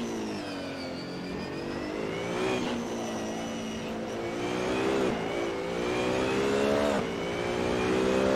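BMW Z4 GT3 race car on a circuit in the Assetto Corsa racing game, its engine wailing at high revs, climbing and dropping with each gear change in a continuous, tonal in-car drone.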